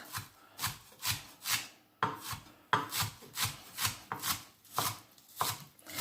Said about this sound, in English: chop these very fine.